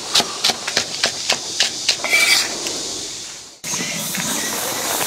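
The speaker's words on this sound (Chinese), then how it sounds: "再切点葱姜蒜玉米" A knife chops scallion, ginger, garlic and corn on a board while beef is being prepared for double-cooked beef. About a dozen crisp, evenly spaced chops come first, followed by a clatter and quieter kitchen handling.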